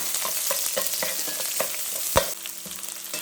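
Urad dal frying in oil for a groundnut and bottle gourd curry, a dense crackling sizzle with rhythmic scraping of a spoon and one sharp louder clack partway through.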